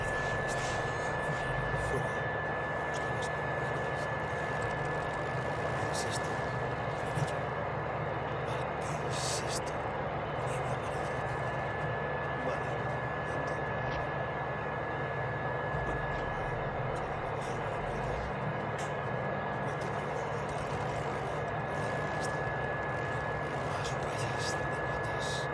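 Motorcycle engine droning steadily while riding in the Days Gone video game, a continuous loud hum with a constant whine throughout, mixed with game ambience.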